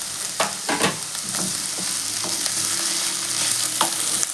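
Radish stir-fry is mixed with chopped coriander in a pan over a gas flame: a steady sizzle broken by several sharp spatula scrapes and knocks, with no one speaking.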